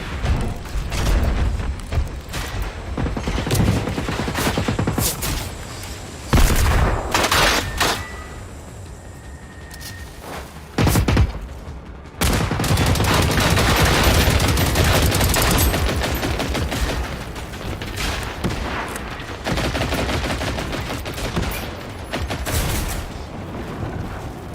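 LMG fire in the open-world shooter Generation Zero, long rattling bursts and sharp booms loud and close, with a brief quieter lull mid-way before heavy firing resumes and continues to the end.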